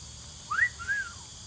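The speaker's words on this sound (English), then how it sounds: "Just whistled." A pet cockatoo gives a short two-part whistle, a rising then falling glide followed by a softer longer downward slur, close and clear against a low background hum.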